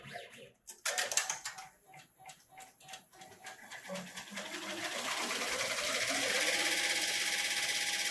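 Two industrial embroidery machines, an HCH Plus and an Acero X, stitching 2 millimeter columns at 1,000 stitches a minute, a loud rapid mechanical chatter that starts in bursts and settles into a steady, dense whir.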